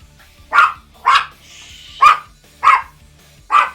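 A dog named Rusty gives five loud, close barks at a steady pace about half a second apart, with a brief whine between the second and third bark.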